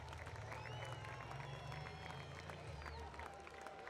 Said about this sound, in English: The South African crowd go wild.